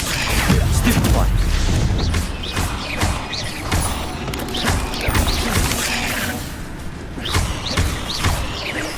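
Spell impacts and magical bursts from combat in the video game Hogwarts Legacy, a rapid series of sharp whooshes, crashes and thuds layered over busy game music and voices.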